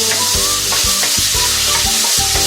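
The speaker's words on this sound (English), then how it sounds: "I just need to fry this for a few minutes" Pork cheek fries loudly in a pan with steady close sizzling and crackling, while a utensil scrapes and stirs at a regular rhythm.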